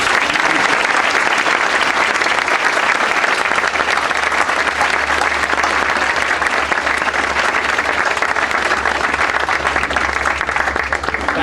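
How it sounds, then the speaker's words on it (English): A large outdoor audience applauds steadily at a monument dedication honoring a century of flight, dense loud clapping sustained throughout with a low rumble beneath. "Please join me in a round of applause for all these generous"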